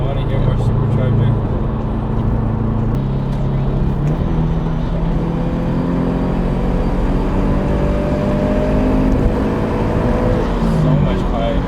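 A supercharged Subaru BRZ engine drones steadily under way with the bypass valve closed, a thin rising supercharger whine layered over the continuous engine tone.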